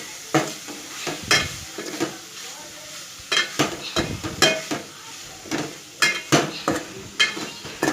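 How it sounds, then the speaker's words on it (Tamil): Soya chunks fry in oil with chili powder as a spoon scrapes and stirs the pan in repeated sharp strokes over a soft sizzle, close and clear with no talking. "1 ஸ்பூன் வத்தல் பொடி போட்டுக்கோங்க. இப்போ நல்லா ஃப்ரை பண்ணுங்கள். நல்லா கிளறி விடுங்க."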